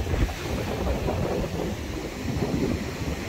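Ocean waves break on a rough, stormy shore, giving a continuous dense roar buffeted by wind noise against the microphone, with no voices heard.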